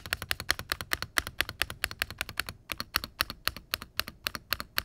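Rapid typing on a Wooting 60HE+ keyboard with factory-lubed PCB-mount stabilizers fills the space, a dense run of crisp, close clacks with a brief pause midway before the keystrokes resume.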